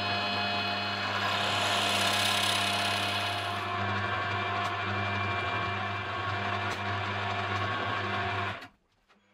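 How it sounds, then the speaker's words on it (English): Drill boring a hole into a small metal locking nut for a vise stop, a steady whine with a low hum running for several seconds before stopping abruptly, up close in a workshop. "I can drill a hole in the locking nut"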